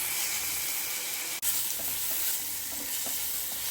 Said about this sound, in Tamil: இப்போ தக்காளி சேர்த்துக்கலாம்